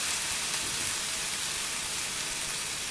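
Cooked potatoes and cauliflower fry in oil with spices, giving a steady, even sizzle with a bright hiss throughout and no talking.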